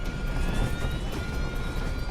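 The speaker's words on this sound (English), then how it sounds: "Incredibly, the left engine is now failing." Roar of an airliner's engines in flight as one engine fails, a steady, dense rumble with a faint whine above it, loud and continuous with no voices.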